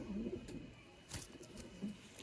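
Pigeons in a kabootar bazi setup coo softly in a few low, rolling bursts, faint and somewhat distant, with a brief clatter in the middle.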